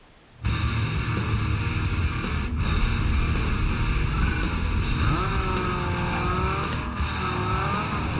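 A tuned car in the racing game Need for Speed Underground 2 roars up to a loud, sustained engine drone, with rising revs, gear changes and tire squeal toward the end and no talking.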